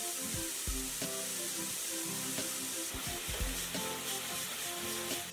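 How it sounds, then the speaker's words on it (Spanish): Seasoned pieces of beef liver sauté in hot oil for a carretillero-style dish, giving a steady close sizzle with repeated stirring knocks and scrapes of a utensil against the pan throughout. "saltea un poco y remueve hasta que la carne absorba todo el líquido que suelte"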